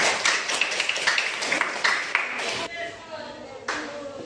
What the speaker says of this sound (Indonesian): Tepuk tangan dulu kalian dulu.